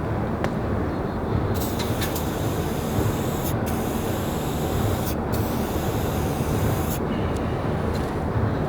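Montana White Out spray paint hissing steadily from a can in loud, continuous bursts, with a few brief pauses between passes.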